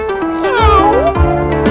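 Garfield, the cartoon cat, gives a short, clear, up-close meow with a falling, drawn-out pitch over light background music.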